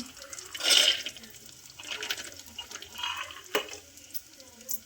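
Peanuts and spices such as cumin, cinnamon, cloves, cardamom, garlic and ginger fry in a pan at low heat, giving soft intermittent sizzling and stirring scrapes with a few brief louder bursts.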